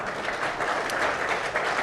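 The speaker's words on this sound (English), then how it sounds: "Can we get a big round of applause for Believe?" A live audience at a coach's show in Harvest Hall gives a round of applause, a dense, steady clapping crowd heard throughout.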